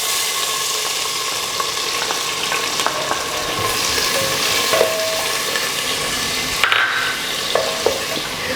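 Onions being sautéed in a pan for a restaurant-style vegetable kurma, giving a steady, close sizzle with occasional scrapes and stirring clicks throughout, no talk.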